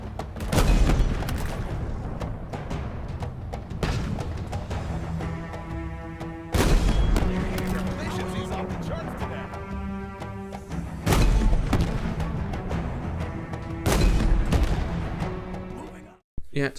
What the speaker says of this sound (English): firing a 90mm tungsten shell will ruin some poor Wraith's day